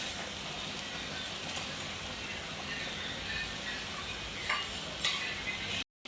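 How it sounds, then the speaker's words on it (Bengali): A masala paste being sautéed with a little water in a pan for duck curry, giving a steady, even sizzling hiss with faint stirring scrapes, then a brief dropout near the end. "একটুখানি পানি দিয়ে এই মশলাটাকে সুন্দর মতো 10 মিনিট আমরা কষিয়ে নেব"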